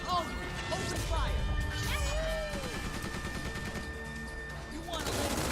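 Gunfire from units in the Tiny Metal strategy game, a dense run of blasts and crashing impacts over a steady game backdrop, with voiced game lines and a talking player layered on top.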